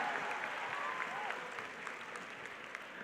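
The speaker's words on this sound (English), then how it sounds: "even the crowd has already cheered" The crowd at a national science quiz final applauds, a dense continuous round of clapping mixed with a few cheers, steady and fairly faint, with a brief voice underneath.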